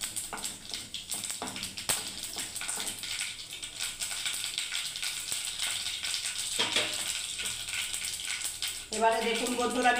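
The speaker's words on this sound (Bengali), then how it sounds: "গোটা জিরে আর গোটা সর্ষে আমি দিয়ে দিচ্ছি বন্ধুরা দেখুন।" Whole cumin and mustard seeds, added alongside dried red chillies, sizzle in hot oil for a green moong fry, a steady close crackling hiss that grows livelier near the end, while a person talks over it.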